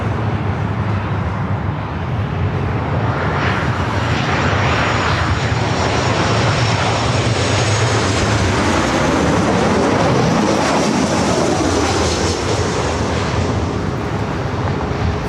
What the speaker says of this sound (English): Our next arrival is a Southwest 737-800 coming in from Oakland